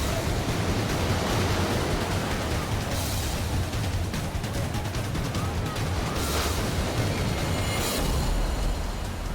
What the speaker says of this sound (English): The relentless surf is pushing victims closer and closer to the dangerous boulder fields.